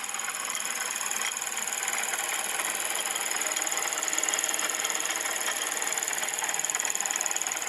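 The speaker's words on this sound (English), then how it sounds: "This is the engine in my Lexus." A Lexus 2.5-litre V6 car engine runs rough with a steady, close whirring drone and faint rapid ticking throughout, no voices.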